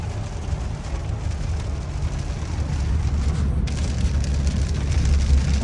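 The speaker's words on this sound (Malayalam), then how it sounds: "മഴയുടെ ആ സൗണ്ടും ആ റോഡിൻ്റെ നനവും" Steady rain and tire wash from a car driving along a wet road during a Finger Lakes road trip in New York, a broad continuous roar with heavy low rumble that swells slightly toward the end, no talking.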